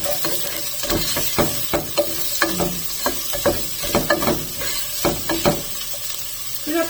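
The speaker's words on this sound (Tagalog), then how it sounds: "Ilagay na natin yung sibuyas." Onions dropped into a hot pan for corned beef pares, giving a continuous close sizzle with irregular knocks and scrapes of a utensil against the pan.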